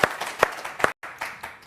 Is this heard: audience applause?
yes